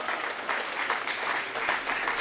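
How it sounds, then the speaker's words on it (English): A room full of people applauds the Future Business Leaders of America students from Corona Del Mar High School at a morning community gathering, with steady, dense clapping that holds at an even level from start to finish. "How about a round of applause for them?"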